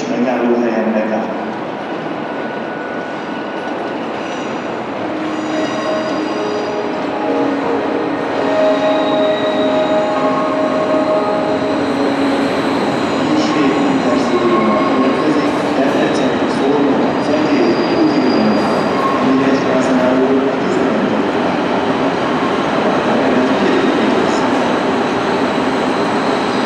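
Passenger trains at Budapest Nyugati station make a steady, loud rumble of idling and moving rail cars, with occasional squeals and clanks, while a station announcement and voices carry over the continuous din.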